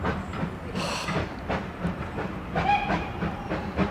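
A restored steam locomotive chuffs and hisses, with rhythmic exhaust bursts, clanking and a brief sharp whistle-like burst, loud and close.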